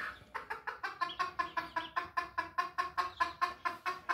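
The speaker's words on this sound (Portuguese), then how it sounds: "É uma raça de galizé, mas é um galizé bem pequenininho mesmo." A very small galizé bantam chicken clucks in a fast, regular series of short, sharp calls, about four per second, close and alone.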